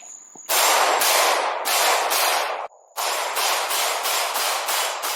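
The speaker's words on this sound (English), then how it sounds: "You'll hear the steel ping, you'll know I'm not missing it." A series of loud, close pistol shots fired while moving at steel targets outdoors, about ten sharp reports in quick succession with a short pause midway and faint metallic pings from the steel.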